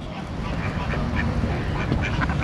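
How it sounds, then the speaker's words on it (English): Mallard ducks at the Sacramento Zoo quack in a steady cluster of short calls over a dense, noisy outdoor background, with faint voices nearby. "These are mallard, green mallard head ducks"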